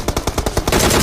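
Rapid bursts of M4 rifle fire in PUBG Mobile, about eight sharp shots in quick rhythm, loud and close, ending in a denser continuous burst.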